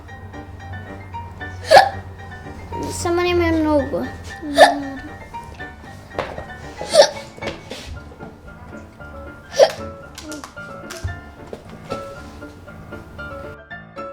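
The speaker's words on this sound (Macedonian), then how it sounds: "Икам цело време." Several sharp hiccups at irregular intervals, close and fairly loud, with a person speaking between them.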